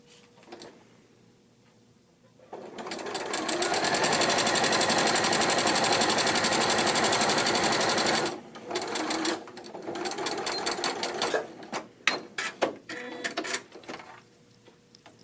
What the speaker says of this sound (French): je vais y aller avec un point droit, puis un surjet pour faire la finition